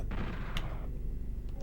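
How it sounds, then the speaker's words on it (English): Gunfire in the Nintendo 64 shooter Doom 64, with a heavy booming shot and a second, fainter blast a moment later over low, rumbling game ambience. "If I stand here and I shoot that."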